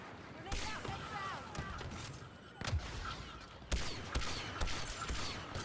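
Sniper rifle shots ring out in Battlefield 2, several sharp cracks spaced a second or so apart amid game clatter and background mechanisms.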